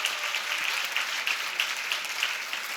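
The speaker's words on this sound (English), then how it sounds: "So a round of applause for them as well." Steady applause from an audience at a Sault Ste. Marie Chamber of Commerce Women in Business breakfast, moderately distant and even, a dense patter of clapping filling the whole stretch without voices.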